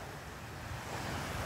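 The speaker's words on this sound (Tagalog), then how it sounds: "Ipapakita ko sa inyo ang tabing dagat ng Boulevard Molo." Sea waves washing at the Boulevard Molo seaside in Iloilo City, a faint, steady surf wash mixed with wind noise on the microphone, with no talk.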